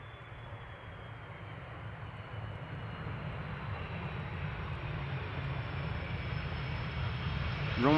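A Turkish Airlines airliner lands at Amsterdam Schiphol Airport, its engine roar steady and broadband and slowly growing louder as it nears.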